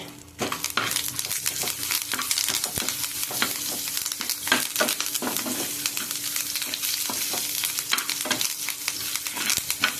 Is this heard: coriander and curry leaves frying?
yes